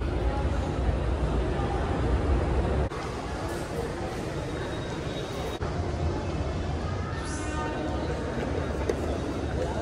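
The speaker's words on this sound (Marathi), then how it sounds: "जी येईल मेट्रो त्यात बसायचं आणि सिव्हिल कोर्टला उतरायचं." Pune Metro train running, a steady broadband rumble and rolling hum close by throughout, with a brief high squeal near the end and faint voices underneath.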